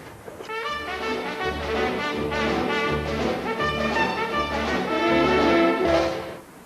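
Orchestral passage from Gershwin's An American in Paris with a Charleston-style trumpet solo riding over the ensemble, steady and full for several seconds before tapering off, with no voices.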